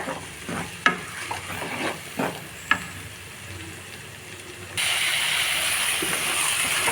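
Spinach fries in hot oil for a Telugu palakura dish while a spoon stirs it in a few sharp scrapes, then a louder, steady sizzle takes over near the end.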